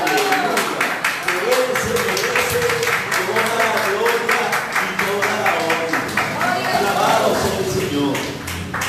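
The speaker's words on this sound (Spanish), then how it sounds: "Denle un fuerte aplauso a mi Señor." A church congregation claps in a steady, rhythmic beat for several seconds, loud and full, with voices mixed in under the clapping.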